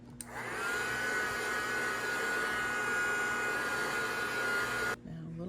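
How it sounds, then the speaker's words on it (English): A heat gun blows hot air over fresh paint on a rustic DIY craft piece, a loud, steady whooshing whine that holds for about five seconds and then cuts off abruptly. "And I'm going to hit it with a little bit of the heat gun."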